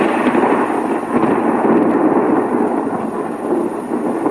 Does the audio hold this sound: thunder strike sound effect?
yes